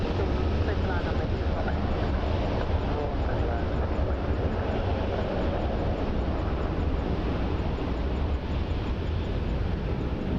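An Air Canada airliner in Star Alliance livery, arriving from Vancouver, rumbles on final approach at Montréal-Trudeau Airport, a steady, broad engine roar mixed with wind buffeting that holds evenly throughout.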